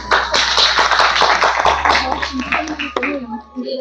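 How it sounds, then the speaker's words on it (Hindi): Audience clapping among disabled attendees at a gathering in Sitapur, a run of brisk hand claps that thins out and fades toward the end, with a voice speaking over it. "एक बार इनके लिए तालियां हो जाए"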